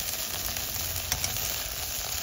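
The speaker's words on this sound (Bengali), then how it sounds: "এখন একটু ভেন্ডি ভাজা করছি" Finely chopped okra frying in a pan, giving a steady, even sizzle throughout with a couple of faint clinks partway, no voices.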